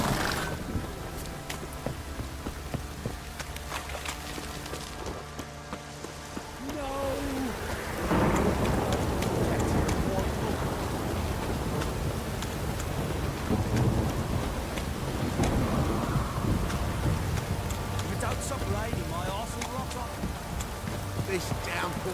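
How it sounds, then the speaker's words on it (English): Heavy rain and rolling thunder fill a stormy scene in The Witcher 3: Wild Hunt, a dense, continuous downpour with a deep rumble swelling after a brief lull, loud throughout. "This downpour's up the arse"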